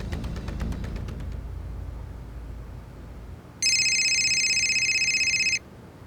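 A telephone rings in a tense TV drama scene, a loud, bright electronic ringtone that repeats for about two seconds after a low rumbling underscore and a series of ticking tones.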